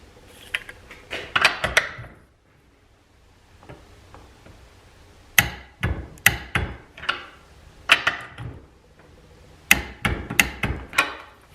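Harbor Freight Earthquake XT cordless ratchet tightening a socket toward 40 foot-pounds: three close, loud bursts of sharp, rapid clicking rattles separated by short pauses, with no talking.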